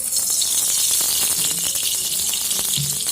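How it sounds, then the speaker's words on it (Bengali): Cooking oil pours into a wok and starts a steady hissing, sizzling wash that runs loud and unbroken for a few seconds, with no voices over it. "তার জন্য এখানে কড়াইতে দিয়ে দিব পরিমাণ মতো তেল"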